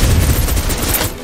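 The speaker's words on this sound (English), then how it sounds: "Suppressive fire." Dense, loud burst of automatic gunfire laying down suppressive fire in the Snowbreak: Containment Zone video game, continuous and close throughout with no gaps.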